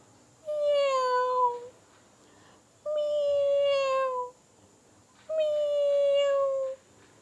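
Three long, drawn-out meows, each falling in pitch, separated by short pauses; children's voices imitating a cat, clear and close.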